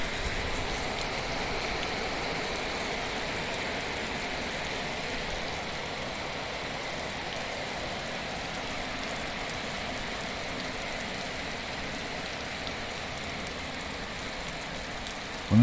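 Heavy spring downpour in Mangystau, Kazakhstan, in April, a constant broad hiss of rain drumming on surfaces, even and unbroken from start to finish.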